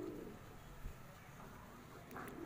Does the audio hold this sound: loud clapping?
no